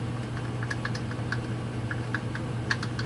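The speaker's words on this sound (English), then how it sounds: "I need to see if the keyboard is typing at all." Keys being typed on an old Commodore PET computer keyboard under restoration, some keys not working, give a steady scatter of light, crisp clicks at a moderate pace over a constant low hum, with no voices.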